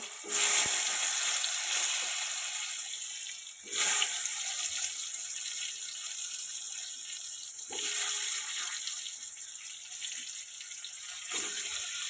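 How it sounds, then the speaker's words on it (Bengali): Brinjal slices rubbed with salt and turmeric fry in hot oil in a kadai, giving a loud continuous sizzle that swells sharply several times as pieces go in or are turned. "এবার আমি বেগুনগুলো একই রকমভাবে লাল লাল করে ভেজে নেব"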